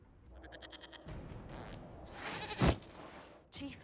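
A goat bleats in Dragon Age: Inquisition, giving one loud, shaky cry midway through a stretch of game ambience, with a few fainter rasping sounds around it.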